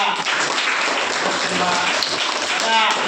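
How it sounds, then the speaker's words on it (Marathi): Applause from students welcoming a classmate in a classroom, a dense, steady wash of clapping that fills the whole moment, with voices mixed in. "टाळ्या वाजवून स्वागत करा."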